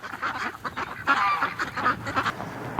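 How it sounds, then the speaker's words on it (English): Muscovy ducks calling in a snowy winter setting, a busy flock giving repeated raspy honking quacks in overlapping bursts, fairly close and steady throughout with no talking. "Just listen to them. They're so happy."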